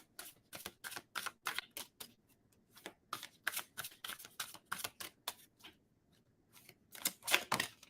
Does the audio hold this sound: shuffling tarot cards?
yes